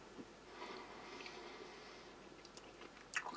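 Close, quiet chewing of mint gum with a crispy outer shell from a British Army cold-climate ration, soft wet squishes and a few crisp crunches, ending in a sharper bite near the end.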